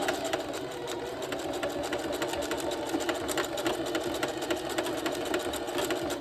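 A Singer sewing machine stitches steadily and rapidly in a close, even whir with a fine mechanical clatter, running without pause throughout.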